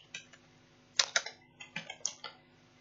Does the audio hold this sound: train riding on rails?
no